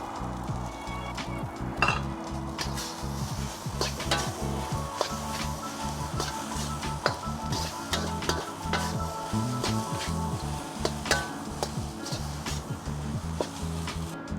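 Bean sprouts hit a wok of Chinese fried rice after the heat is turned off, bringing a steady close sizzle with scattered clinks and scrapes of stirring throughout.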